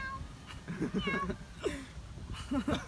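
A cat meows several times in short, wavering cries, close by, with people talking quietly underneath.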